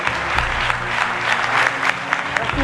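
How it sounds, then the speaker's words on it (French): Studio audience clapping steadily throughout on a French morning television show, dense and lively with a little crowd noise. "Je voudrais qu'on applaudisse très fort Big Ben."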